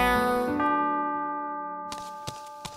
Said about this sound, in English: The clock struck 12,